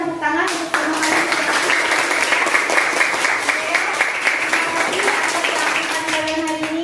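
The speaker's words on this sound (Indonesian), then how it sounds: "Kita berikan tepuk tangan untuk semua kalian." Steady applause from a class of students fills the room, dense clapping that starts sharply and holds for several seconds, with faint voices of children underneath.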